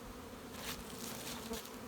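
Honeybees buzz steadily in an open beeyard around a clustered hive, a faint, continuous droning hum with slight swells as individual bees pass nearby.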